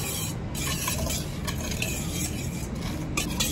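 Wet cake batter with a cup of coffee being mixed in a bowl, a continuous close swishing and sloshing of utensil through liquid with light clinks against the bowl.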